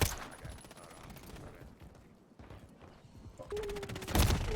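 Gunfire in the video game Warzone comes as rapid, dense bursts of shots. A quieter lull sits in the middle before a sharp, loud volley near the end.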